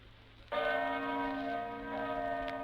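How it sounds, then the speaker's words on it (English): The bell of the Congregational Church in Plymouth, Vermont tolls the hour with a single loud strike, its rich ringing tone sustaining and slowly fading, with no voices present. "As the bell of the Congregational Church in Plymouth, Vermont, tolls the hour"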